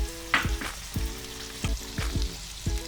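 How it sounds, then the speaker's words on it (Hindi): Butter melting in a pan over a medium flame, sizzling steadily with a few sharp clinks and scrapes of a utensil against the pan, close and clear with no talking. "इसमें अभी मैं डालूंगी 2 टेबलस्पून बटर और बटर को इसमें मेल्ट करेंगे।"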